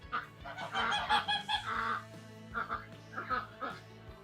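Geese honking close by on a farm, several loud nasal honks in quick irregular bursts, overlapping one another, with a short pause partway through before more calls.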